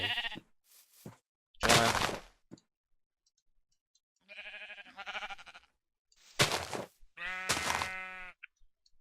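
Sheep in the video game Minecraft bleat several times, loud and near, the wavering cries arriving in separate bursts with brief gaps, and a voice speaks briefly at the start.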